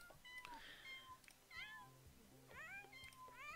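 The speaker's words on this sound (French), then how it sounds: "Coucou bébé chat!" A kitten in The Sims 4 gives several short, high meows with gaps between them, fairly soft over a quiet game background.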